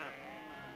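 Sheep bleating in a western drama scene, a short, fairly loud bleat over a dense ambient bed with no voices.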